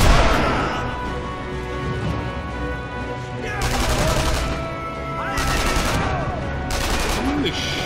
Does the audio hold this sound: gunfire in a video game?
yes